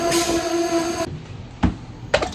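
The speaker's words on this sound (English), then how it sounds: "148 going to Springfield, with the leader being Amtrak ACS 64 number 625." An Amtrak Northeast Regional train led by an ACS-64 electric locomotive, with a sustained horn-like tone for about a second, then quieter rail rumble and a few sharp clanks, heard from close by.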